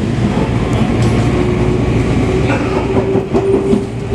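Inside a Jakarta commuter train (KRL) bound for Jakarta Kota via Manggarai, a loud, steady low rumble of wheels on rails fills the car, with a rhythmic clatter and a faint tonal hum building toward the end.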